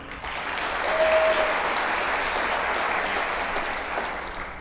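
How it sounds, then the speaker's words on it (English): A large audience at a city's State of the City address applauds, a dense, steady wash of many hands clapping that swells and then holds evenly. "We'll still give her a round of applause."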